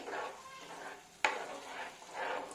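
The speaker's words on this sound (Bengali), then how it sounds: "এটা ভালো করে একটু নাড়তে থাকবো" A spoon stirs methi katla fish in a hot pan on a raised flame, a soft scraping swish under a faint steady sizzle, with one sharp clink of utensil against the pan midway.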